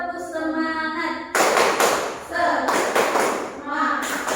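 A primary school class doing the "tepuk semangat" spirit clap, a burst of loud rhythmic group clapping in short bunches, mixed with a teacher's voice counting in and leading.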